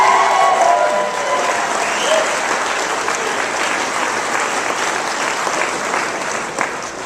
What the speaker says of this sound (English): Why don't you give the governor a big round of applause?